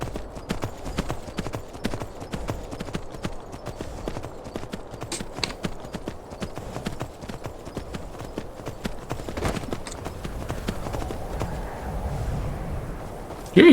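Horse hooves in The Elder Scrolls V: Skyrim clip-clop at a steady walking pace, a continuous run of hollow knocks over a low background rumble.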